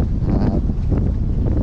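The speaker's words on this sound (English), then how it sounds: "Sorry about all the wind." Strong wind buffets the microphone at Keaton Beach, a secluded Florida beach town, as a steady, loud, low roar with gusty fluctuations throughout and no talking.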